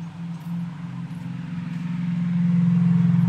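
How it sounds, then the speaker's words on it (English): A car passes nearby with a steady engine drone that swells louder toward the end, heard alone without talk. "Noisy car."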